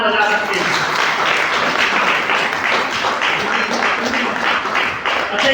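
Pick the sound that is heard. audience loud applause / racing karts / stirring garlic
audience loud applause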